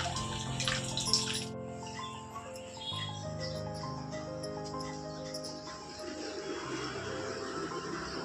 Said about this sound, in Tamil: அது பாருங்கள், அழுக்கு தண்ணியாக வருது.